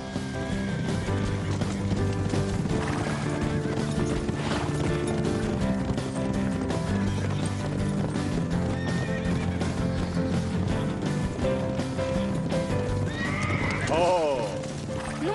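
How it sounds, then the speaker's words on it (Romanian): A herd of wild horses gallops with steady clip-clop hoofbeats and repeated loud neighing, heard under continuous music in an animated farm scene, with a sharp whinny near the end. "Dar avem o hoardă de cai sălbatici de eliberat."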